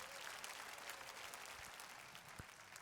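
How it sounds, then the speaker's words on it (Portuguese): A church congregation claps for Jesus during a sermon, a faint, distant, steady patter of many hands with a few sharper claps. "bata palmas para Jesus"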